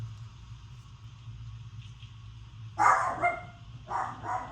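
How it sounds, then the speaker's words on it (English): A dog barking indoors in a home, two short bursts of several barks at moderate distance over a steady low household hum. "Oh, that dog is gonna wake up this baby."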